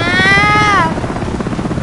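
A loud helicopter in Battlefield Play4Free starts with a whining engine tone that sweeps down, then settles into a rapid, throbbing rotor pulse close by.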